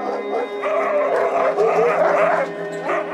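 Several sled dogs of a dog sledge team bark, yip and whine continuously and close by, in the extreme cold of a Swedish winter at minus 30, forming a dense, overlapping chorus.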